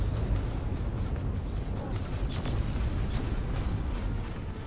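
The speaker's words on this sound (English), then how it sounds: "Let's let that section explode." A station section in the space game X4 breaks apart under main cannon and plasma fire, a dense continuous rumble of booms and bursts that stays loud throughout, with no talking.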